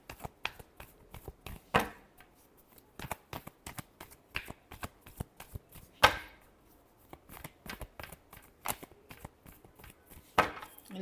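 Tarot cards are shuffled in a long series of crisp riffling slaps and flicks, sharp irregular bursts close by with quiet gaps between them and no talking.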